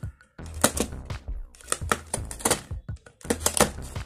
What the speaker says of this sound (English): So let me just cut this where the tape is real quick.